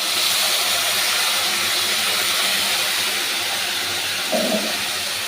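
Ginger, garlic and green chili paste hits a hot pan of onions for a crab dish, giving a steady hissing sizzle with a brief louder burst near the end.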